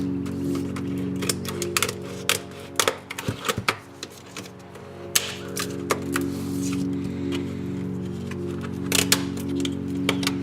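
Scissors snip at the plastic visor parts of a Daft Punk helmet, giving scattered sharp clicks and short cuts over a steady low electrical hum, close to the microphone.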